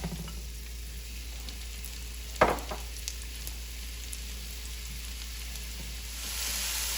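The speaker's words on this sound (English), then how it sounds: "Go ahead and add a little more oil to the pan, and let's add our peaches." Peaches sauté in oil in a pan, giving a soft, steady sizzle with a brief louder clatter of stirring partway through and a brighter hiss rising near the end. No one speaks.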